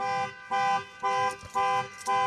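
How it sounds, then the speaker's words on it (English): A truck's car alarm blares close by in rhythmic pulses, loud electronic tones sounding about twice a second with short gaps between. "I set off my alarm on my truck when I rolled over here."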